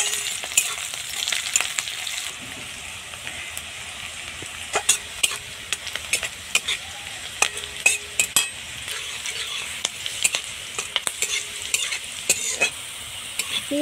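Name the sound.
frying onion, cumin, green chili and crushed garlic in oil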